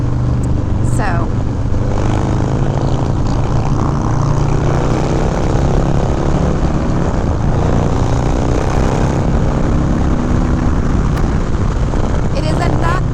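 A Harley-Davidson SE 131ci Heritage Classic Softail motorcycle rumbles steadily while being ridden on a cold day, its loud, constant engine drone mixed with wind noise, with a person speaking over it throughout.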